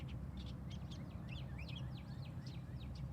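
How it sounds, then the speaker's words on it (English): An unidentified bird high in a tree at Secrest Arboretum gives a rapid series of scratchy, chattering calls over steady low outdoor background rumble, moderately distant and fairly faint. "You can probably hear birds chirping."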